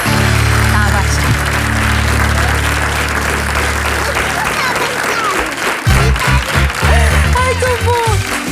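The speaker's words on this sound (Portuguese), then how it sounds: "grande aplauso" Studio audience on a Portuguese television show claps loudly and continuously, the dense applause running throughout while music or tonal sounds sit beneath it, with a brief dip before it swells again.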